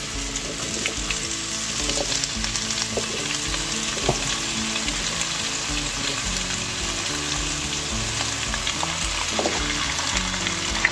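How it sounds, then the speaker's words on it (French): Unpeeled potatoes frying in hot oil in a pan, a dense, continuous close sizzle with occasional light clatters and stirs throughout. "Dès que notre huile a chauffé, nous allons mettre nos pommes de terre."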